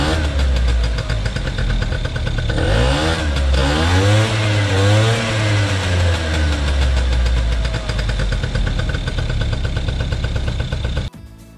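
A 1982 Mitsuoka BUBU501 three-wheeler's small engine fires up and keeps running, a loud, close, uneven idle with a knocking pulse and a brief rev in the middle, cutting off sharply at the end.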